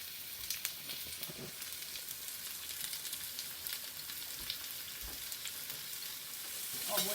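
Onion, green chili and curry leaves fry in a pan, giving a soft, even sizzle with faint crackles and a few light stirring clicks throughout.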